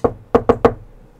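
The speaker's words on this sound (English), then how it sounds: "bothered by a knock" Four sharp knocks strike an estate's door: one knock, a short pause, then three quick raps in a row, loud and close with no talk over them.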